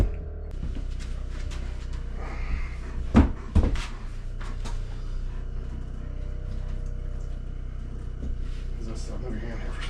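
Kitchen cabinet doors in an off-grid tiny house kitchen being fitted, giving a pair of close, sharp knocks midway over faint room noise and low background sound.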